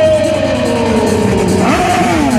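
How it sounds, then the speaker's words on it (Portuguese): A GP1000R motorcycle engine revs continuously at a motorcycle show, its pitch sliding down then climbing again, loud and close. "GP1000R acelerando lá embaixo, vem girando por lá, acelerando pro lado de cá"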